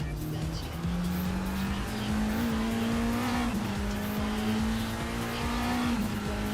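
A Toyota TS020 Le Mans prototype in a racing sim, with a steady high engine drone and a sustained tire squeal as the wheels lock up under braking.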